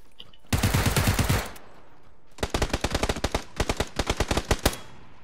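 Automatic weapon fire in the battle-royale game PUBG on PS4: one dense rattling burst, a short pause, then several rapid volleys of sharp, loud shots in quick succession, close and with no talk over it.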